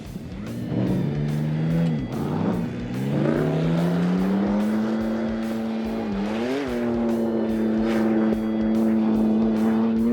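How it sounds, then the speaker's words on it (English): A V8 Mitsubishi Pajero rally car at full throttle on a fast, open stage, its engine note loud and sustained, climbing through gears with brief dips at shifts and a rising pitch throughout. "Next was the V8 Pajero of Ian Wilson."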